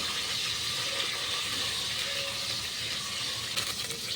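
Cauliflower pieces fry in oil on medium heat, a steady hissing sizzle that holds evenly throughout, close and fairly loud with no one speaking.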